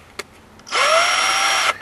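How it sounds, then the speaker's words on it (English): A power drill whirs up sharply and runs at a steady high pitch for about a second before stopping, close by, after a faint click, drilling out a screw while repairing a floor sander. "I'll just drill it one more size."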